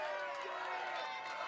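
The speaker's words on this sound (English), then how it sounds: "the crowd's starting to chant his name" Crowd noise at American Ninja Warrior Denver finals, a dense, distant roar of spectators with voices blending into a rhythmic chant beneath, steady and loud without pause.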